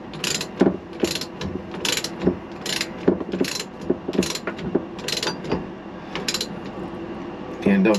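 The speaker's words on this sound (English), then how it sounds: "And I'll grab my ratchet again. Tighten that one up." A hand ratchet clicks in quick repeated bursts while tightening a fitting on a fresh water line in a 1988 Bluebird Wanderlodge FC35 motorhome, each pass of the handle giving a close, crisp run of pawl clicks.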